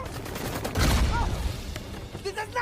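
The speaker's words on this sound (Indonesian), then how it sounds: "Nick dan Val pun dihujani peluru oleh sekumpulan pemberontak yang jumlahnya banyak pisan." Heavy gunfire from a large band of rebels ambushing two people in a village in the 2017 film The Mummy, a dense continuous fusillade with booming low-end bursts, loud and close, mixed with background movie sound.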